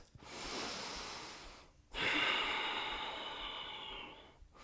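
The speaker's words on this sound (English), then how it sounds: "Can you slow your heart rate down by breathing deeply?" Deep, slow breaths during an intense athletic power yoga flow: two long breaths, each an airy, steady rush that swells and fades, the second louder and longer, close to the ear with no talk.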